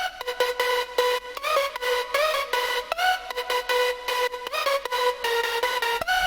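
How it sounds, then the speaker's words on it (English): Final layered future bass lead synth built in FL Studio plays a bright, buzzy chopped chord melody with quick rhythmic stabs and gliding pitch bends, steady and loud, with no voices. "And the last layer of our lead sounds like this."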